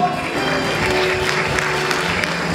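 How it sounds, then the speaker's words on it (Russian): Audience applauding at a student talent gala concert at Bashkir State University, a short steady patter of clapping from a crowd. "Аплодисменты"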